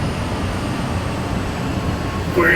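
A train locomotive in Train Sim World 4 drones steadily after being throttled back to idle: a low, even rumble with little change, plus a short brighter sound at the very end.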